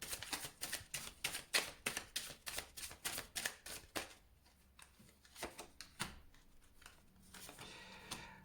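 Tarot cards are shuffled by hand, a quick run of crisp riffling slaps that slows into scattered, softer flicks, close and fairly quiet with no talk.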